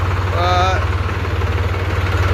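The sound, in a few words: 3-cylinder tractor engine idling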